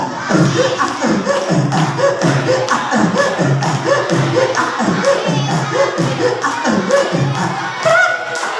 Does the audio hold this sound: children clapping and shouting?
yes